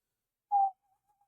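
A single short whistle sounds in a classroom, clear and isolated against silence, followed by a couple of faint trailing tones.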